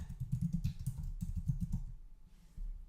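Someone typing a comment on a computer keyboard: quick, close, uneven bursts of soft key clicks that thin out briefly before resuming.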